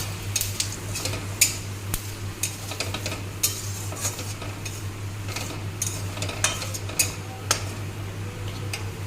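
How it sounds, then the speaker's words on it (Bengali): Whole spices crackle and pop in hot oil in a kadai with scattered sharp snaps and ticks over a steady low hum, fairly close. "কড়াইতে তেলটা বসিয়ে দিয়েছি আমি আগের থেকেই এবারে ফোড়নটা দিলাম"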